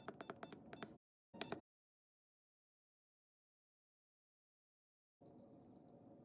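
Kitchen timer going off while mozzarella cheese is being made at home, giving bursts of rapid electronic beeps, a short pause and another burst, then quiet before a fainter repeated beeping returns.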